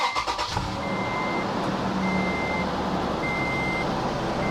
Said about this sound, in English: So I'm going to go ahead and start the truck up.